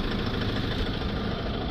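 A Fiat Ducato van's engine idles, heard close up at the exhaust as a steady, dense, rushing rumble with no pauses or voices.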